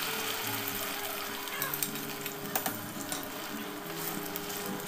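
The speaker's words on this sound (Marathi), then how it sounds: "यामध्ये लसूण घालून घेत आहे आणि वाटून घेतलेली चटणी घालून घेऊया आणि 4-5 मिनिटं याला तेलामध्ये छान परतून" Garlic and ground raw mango chutney fry in hot oil in a pan, a steady close sizzle and crackle with faint stirring clicks.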